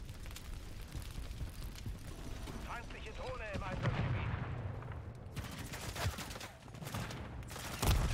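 Gunfire and explosive blasts in Call of Duty MW3 multiplayer, a dense ongoing rumble of shots with a few sharper bursts, under game effects and excited talk.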